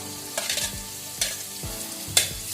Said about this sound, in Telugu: బీరకాయ వేసుకున్న తర్వాత 2 సేపు వేగాల. నూనెలో వేగితే అప్పుడు టేస్ట్ బాగా వస్తుంది.